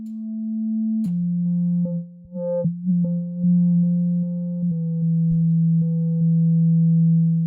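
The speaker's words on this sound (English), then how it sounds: "Now, without that modulation, this filter wouldn't be working because we're working with a sine wave." A steady synthesized sine tone from an Arturia MicroFreak shifts in pitch in small steps, with faint filter sweeps adding clicks and brief overtones; loud and alone, no voices.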